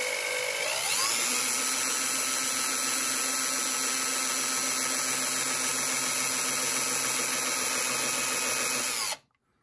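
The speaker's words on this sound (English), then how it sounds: "I can take my power drill here and carefully, while holding it straight," A power drill bores a small hole in the side of a model train flywheel, a steady high whine that spins up quickly, holds for several seconds, then cuts off abruptly, close and loud with no talk.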